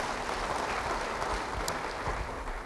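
Applause rises from a church congregation at a sermon, a steady dense patter of clapping filling the room at moderate level for a few seconds with no voices over it.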